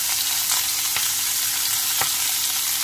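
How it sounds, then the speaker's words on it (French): Sliced ginger and beef sizzle in a hot pan, a dense, steady crackling fry with a couple of sharp stirring clicks, close and alone without talk. "Les gingembre commencent à dorer, je vais verser de la viande."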